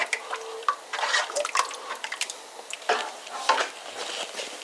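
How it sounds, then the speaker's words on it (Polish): Teaspoon stirring Hungarian goulash in a pot, light scraping and liquid sloshing with small clinks, close and moderately loud, continuous with uneven bursts. "Zamieszamy jakąś łyżeczką"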